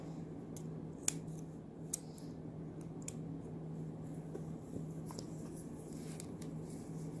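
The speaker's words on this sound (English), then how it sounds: "One of our melt points has kind of gone off to the side. So we're going to trim him off." Scissors make a few faint, sharp snips over a low steady hum, trimming a stray melted lacing point on kebiki odoshi armor lacing with mimi ito, with no voices.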